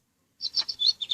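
Electronic chirping from a VTech Explore & Learn Helicopter toy bird, a quick series of bright, high tweets starting after a short silence, close and clear with no talking.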